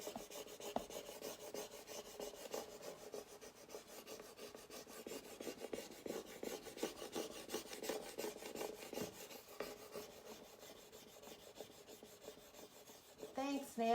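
A stick is rubbed back and forth over a transfer laid on an old wooden hutch door, giving a soft, steady scraping rasp close by with a few brief pauses.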